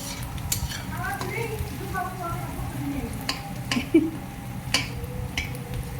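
Onion and chilli frying in a pan make a low, continuous sizzle, broken by sharp clicks and scrapes of a utensil stirring against the pan, with a faint voice in the background.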